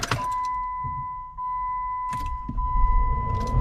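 A Jeep that had stood unused for a year cranks and catches in a car park, with a few clunks before the engine rumble builds and steadies while a continuous dashboard warning chime tone sounds.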